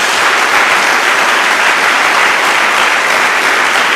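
Loud, dense applause from a church congregation during a sermon, a continuous wash of clapping that stays even and close throughout.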